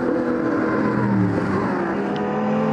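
Race cars of classes R0 to R3 pull away at the Val de Vienne circuit in damp, slippery conditions, engines droning and rising in pitch as the pack moves off at a moderate distance.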